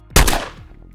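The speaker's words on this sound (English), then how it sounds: "Zachary's going to turn around and take 2 shots into the Scaver." Two quick gunshots in the Fallout Wasteland Warfare game, a loud sharp crack followed immediately by a second report, then a short ringing decay, no voices.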